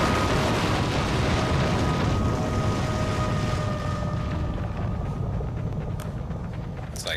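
Rumbling explosion in the Where the Wild Things Are video game, a dense, loud roar filling the whole stretch with a sustained low boom, a faint tonal hum through it and a couple of sharp cracks near the end.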